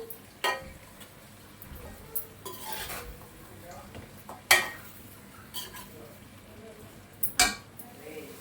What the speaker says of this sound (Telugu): చికెన్ అంతటినీ కూడా ఇందులోకి అయితే వేసేసుకుందాము సో దీన్ని చక్కగా ఒకసారి ఇలా కలుపుకుందాము